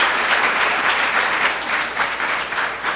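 An audience at a Rochester Board of Education business meeting applauds students, a dense, loud, continuous wash of clapping from many hands that holds steady throughout.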